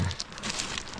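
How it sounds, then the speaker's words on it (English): Light rain beginning to fall outdoors on a Michigan lakeshore, a soft, steady patter of scattered drops close by, with a brief low thump at the very start and no talking. "It's starting to rain a little bit."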